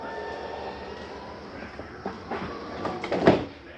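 Slide-out room on a 2015 Montana 3720RL fifth-wheel RV retracting, a steady low mechanical drone with faint scraping and a few knocks and clunks building toward the end.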